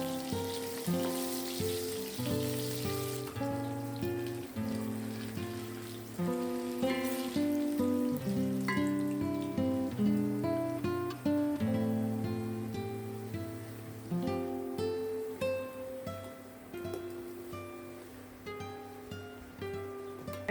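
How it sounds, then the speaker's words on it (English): Medium potato cubes frying in oil, a steady crackling sizzle heard close and continuously for about twenty seconds, with music playing alongside. "fry one medium-sized potato cut into cubes until they are golden"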